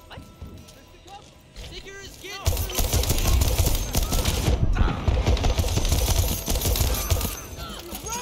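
Rapid gunfire from a firearm in the Deathloop video game, starting after a quieter stretch and continuing as dense, loud bursts for several seconds with a brief pause midway.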